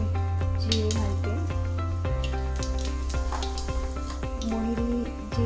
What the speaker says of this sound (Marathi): मी त्यामध्ये थोडं मोहरी आणि थोडे जिरे घालते.